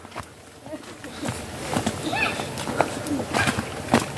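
Horses clip-clopping along with scattered hoof strikes and a brief whinny, mixed with background voices and ambient noise.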